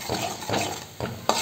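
A spoon stirs tomato and chili powder in a pan for a curry, giving four scraping, sizzling strokes in a steady rhythm, close and fairly loud.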